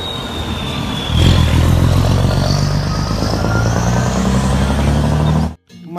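A long toy tanker truck plays a loud, steady truck engine rumble with a hissing air-brake-like burst, continuous for several seconds before stopping suddenly, with no voices.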